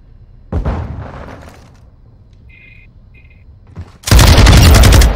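Light machine gun firing in a Call of Duty match, a short early burst, a lull with two small electronic beeps, then a sustained loud, close stream of rapid automatic fire.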